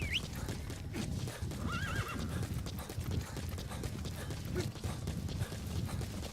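Horse in Metal Gear Solid V neighs in a rising whinny and clip-clops with steady hooves, layered over a dense game ambience with no talk.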